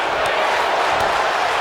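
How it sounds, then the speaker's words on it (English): Wrestling crowd at an SCW Showdown event cheering, a dense continuous roar of many voices filling the space, loud and unbroken across the short moment. "The crowd is loving it"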